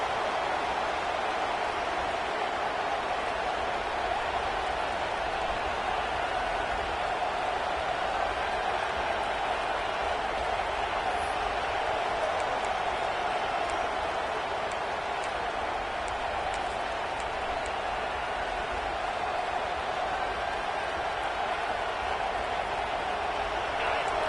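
A stadium crowd at a football game roars loudly, a dense, steady wall of cheering noise that holds at full volume without letup.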